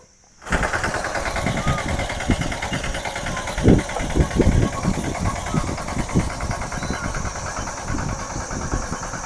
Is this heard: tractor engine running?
yes